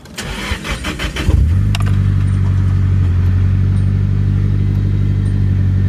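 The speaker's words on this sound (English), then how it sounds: "Let's go start it up." A 240 car engine, after a battery relocation, cranks over with a rattling starter, catches, and settles into a steady, loud idle that runs on without a break.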